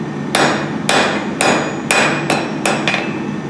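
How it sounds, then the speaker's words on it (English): A forging hammer strikes hot metal on an anvil in a steady rhythm, seven ringing blows close by, each leaving a brief metallic ring, with no talk. "I'm a fan of starting back from the shoulder, starting at my forging hammer"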